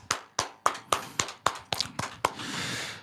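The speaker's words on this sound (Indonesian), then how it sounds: "Tepuk tangan dulu dong." A handful of sharp hand claps spaced in a quick uneven rhythm, close and fairly loud, then a short burst of broadband noise like a small crowd reacting, at a stand-up comedy show.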